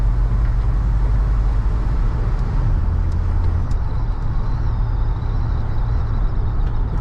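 A 1988 Dodge Ram B250 Safari van drives on the road, its loud engine drone and steady road rumble running continuously from inside the cabin, with no talk over it.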